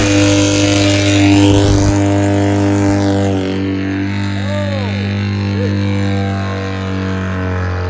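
A loud car engine on a dyno drones steadily at a low, even pitch, with whining harmonics shifting slightly as it idles and revs gently close by.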